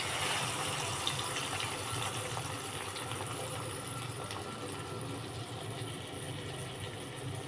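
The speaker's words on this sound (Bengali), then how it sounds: "এবার আমি এই সর্ষা জলটা দিয়ে দেবো" Mustard water is poured into a cooking pan of fried potatoes, making a continuous, even gushing hiss that stays steady throughout with no voices.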